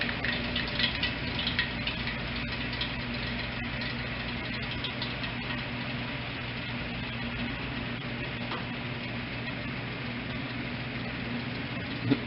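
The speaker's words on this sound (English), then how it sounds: "Just going to rev down as we continue to fill for the rinse." A 1956 Easy Spiralator automatic washer's motor hums in a steady, fairly loud drone while the tub fills for the rinse, a continuous mechanical whir without pauses.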